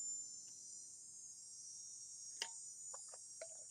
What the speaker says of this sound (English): You can hear the cicada bugs